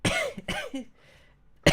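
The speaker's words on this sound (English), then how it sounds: "I'm coughing so much" Several harsh coughs close up, a quick cluster followed by a pause, then one more sharp cough at the end.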